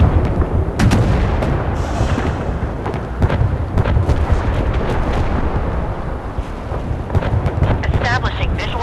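Naval gunfire and explosions in the warship combat game Force of Warships, a dense continuous barrage of heavy booms and rumbling blasts with sharper cracks throughout, loud and sustained.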